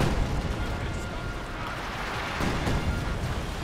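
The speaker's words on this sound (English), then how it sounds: "You can see we're getting a lot of devastating hits on this guy, and that one's a direct hit and wiped out that gun completely." Artillery shells exploding in the video game Company of Heroes 2, a dense, continuous wash of rumbling blasts and bursts that swells near the end, with someone talking over the din.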